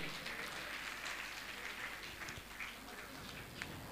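Audience applause at a Jain religious gathering as a family is honoured, a steady broad wash of clapping from a large crowd, fairly faint and continuous throughout.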